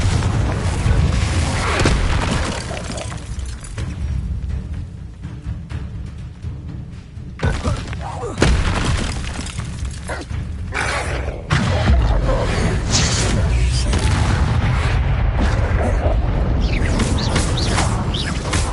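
The Confringo blasting spell sets off explosions in the video game Hogwarts Legacy, with heavy booms and whooshes layered over dense, continuous battle noise.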